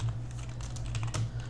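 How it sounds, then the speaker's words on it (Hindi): Keys on a computer keyboard are tapped in a quick, steady run of soft clicks over a low constant hum, close and fairly quiet. "इस प्रकार से आपको यहाँ पे टाइपिंग करना है"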